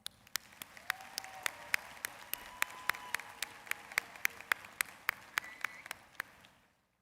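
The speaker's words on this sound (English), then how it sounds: "Please join me in giving them a round of applause." Applause for the graduating class at a spring undergraduate commencement ceremony, sounding as a steady spread of distant crowd clapping, with a few louder, regular sharp claps standing out close by.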